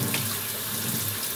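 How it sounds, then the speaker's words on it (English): Hot tap water runs continuously from a faucet to rinse a carbon arrow shaft, a steady close splashing hiss with no talking. "you're going to rinse off the arrow."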